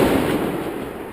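A single loud rifle shot fired through a 4X ACOG scope at an outdoor range, heard up close as a sharp, powerful blast whose broad rumble fades slowly over about a second.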